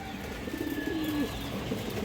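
A female Bagha pigeon gives a single drawn-out low coo, close by, over a steady background hiss.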